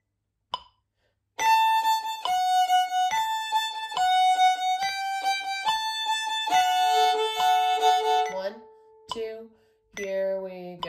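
A solo fiddle plays the first two strains of the tune Rock the Cradle Joe, clear bowed notes up close in a lively rhythm, with a few short sounds and a pause near the end.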